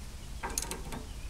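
A ratchet snugging a castle nut onto a boat or utility trailer wheel bearing gives a short burst of quick metallic clicks, close and fairly quiet, with no talking.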